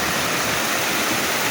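Steady, loud roar of a waterfall, a dense continuous rush of water with no voices.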